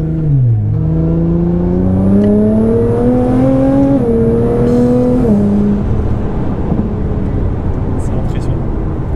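A Nissan GT-R tuned to Stage 3+ with 700 hp accelerates hard from inside the cabin, its engine note climbing through two gear changes before easing off into a low rumble, with talk heard over it.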